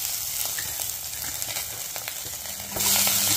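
Capsicum, carrot and green chilli sizzle and fry in hot oil in a pan, a steady close crackling hiss that swells louder near the end, with no talk.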